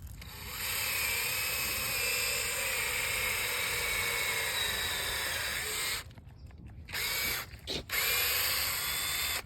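A cordless battery drill bores a tap hole into a maple tree trunk outdoors, a steady loud whine running several seconds, pausing briefly, then spinning up again in short bursts.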